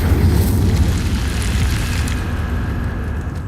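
An Incendio fire spell blasting in the video game Hogwarts Legacy: a loud, sustained rumbling whoosh of flame with a heavy low-end roar, continuous for a few seconds and without speech.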